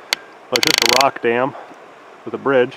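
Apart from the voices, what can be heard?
camera tripod mechanism noise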